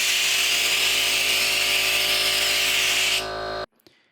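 A CNC router cutting wood with a compression bit, a loud, steady high-pitched whine of the spinning bit with constant machine hum that cuts off abruptly near the end, followed by a faint brief knock.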